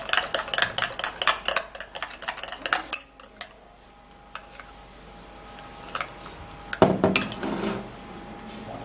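A spoon mixes skin scrub ingredients in a bowl, clinking quickly and rhythmically against the sides, pausing briefly, then scraping and clinking again up close.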